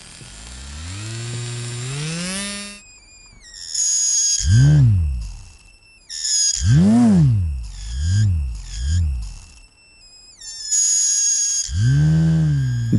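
A small DC motor driven by a homemade PWM circuit gives off a loud electronic whine, tones stepping and swooping up and down as the speed changes, with short gaps between bursts and no voices.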